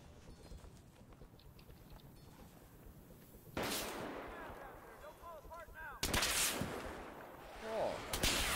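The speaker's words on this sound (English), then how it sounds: "It feels like a proper sniper rifle." A sniper rifle fires in a video game: three loud, sharp shots, each with a long echoing tail, rising out of a busy game background of rumbles and clatter.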